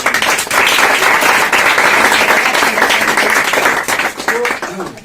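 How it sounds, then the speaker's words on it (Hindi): A crowd at a quiz prize distribution claps for the participants, a loud, dense burst of many hands that holds steady for several seconds and then thins out and fades near the end. "सबसे पहले तो उनके लिए ताली बजाए एक बार।"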